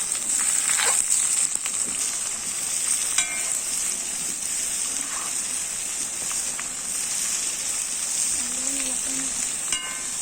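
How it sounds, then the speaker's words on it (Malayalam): Onion, ginger, garlic and green chilli fry in hot oil while being stirred, a bright continuous sizzle with occasional spoon scrapes and clinks over ten seconds, no speech. "ഇനി നമുക്ക് സബോള, ഇഞ്ചി, വെളുത്തുള്ളി, പച്ചമുളക് ഇതെല്ലാം ഇട്ട് കൊടുക്കാം. എന്നിട്ട് നമുക്ക് നല്ലോണം ഇളക്കാം."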